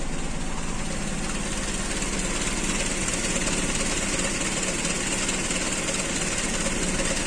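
A warm car engine fitted with an Aisan carburetor idles steadily and evenly, a continuous close rumble with no talk over it.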